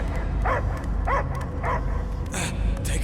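Dog barking in a sci-fi action game, several short yips and barks in a rapid run over a dense, steady background mix.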